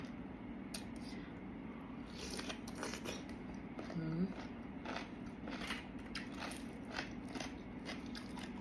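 Close, crisp crunching bites and chewing of fresh raw vegetables served with pickled seafood repeat irregularly over a steady low background hum, fairly quiet overall.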